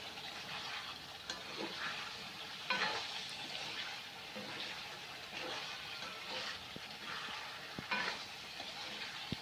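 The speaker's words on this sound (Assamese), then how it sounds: "আলু দি দিয়াৰ পাছত ভালকৈ মিক্স আপ কৰি ল'ব।" Potatoes are stirred into goat mutton curry in a frying pan, giving a soft, steady sizzle with repeated scraping and clinking strokes of a spoon, fairly quiet and without talk.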